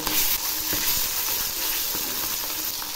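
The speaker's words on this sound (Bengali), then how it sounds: "বাকিগুলো ছেড়ে দিয়েছি, এগুলো আমি একইভাবে ভেজে নেব" Parshe fish frying in hot oil, a loud constant crackling sizzle heard up close, with a few faint knocks and no voices.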